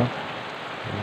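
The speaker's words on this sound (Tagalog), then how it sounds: "Oh, umuulan na guys." Rain falls in a steady hiss of drops on surfaces, continuous and moderately loud, with a low rumble near the start and end.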